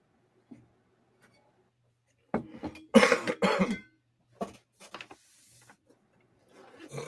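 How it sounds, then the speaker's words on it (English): A smoker's cough breaks out as a short burst of harsh, rough coughs close up. A few faint clicks and knocks come before and after it in an otherwise quiet room. "I have a fucking smoker's cough."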